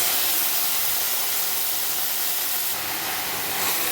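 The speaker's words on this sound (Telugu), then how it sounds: "ఇప్పుడు మనం కోసి పెట్టుకున్న వంకాయ ముక్కల్ని వేసుకోవాలి" Brinjal pieces hit a hot pan of fried onions for an Andhra-style brinjal curry, giving a steady, fairly quiet broadband hiss of sizzling that holds evenly throughout.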